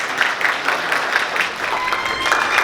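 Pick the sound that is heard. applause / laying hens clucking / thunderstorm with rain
applause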